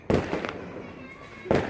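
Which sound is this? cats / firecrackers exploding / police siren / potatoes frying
firecrackers exploding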